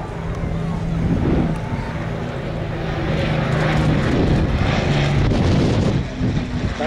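An Avro Lancaster B1 heavy bomber of the Battle of Britain Memorial Flight flies past at the 2008 Waddington airshow, its steady piston-engine drone loud and sustained with wind noise throughout.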